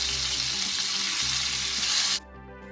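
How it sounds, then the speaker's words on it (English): Fish for biryani fries in a pan with a loud, steady oil sizzle and a low hum underneath. The sizzle cuts off sharply near the end, leaving only the quiet background. "Turn the fish to the other side and make sure that you're frying it."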